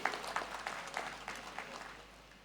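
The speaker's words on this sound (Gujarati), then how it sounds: "આપણે તાળીઓના ગગડાટથી આ વાતને અહીંયા પૂરી કરીએ." A crowd applauds at the close of a speech during a Patidar community celebration on an open stage, the clapping faint and distant yet dense and continuous, fading slightly toward the end.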